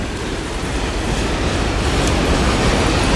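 A long CN freight train of hopper and tanker cars rolls past close by in Montreal's Ahuntsic borough, a steady, loud rumble and rattle of wheels on rail that holds for the whole stretch.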